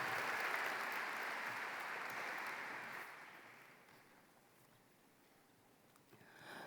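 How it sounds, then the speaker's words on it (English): Audience applause at a high school commencement ceremony, a steady wash of many hands clapping that fades after a few seconds, then swells briefly again near the end, with no talking over it. "Give her a big round of applause."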